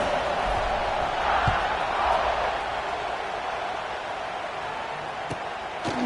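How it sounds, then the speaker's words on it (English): Stadium crowd at a football game, a broad steady roar that hangs in the background, loud at first and easing slightly, with a few faint thumps mixed in. "this crowd is buzzing after that last score"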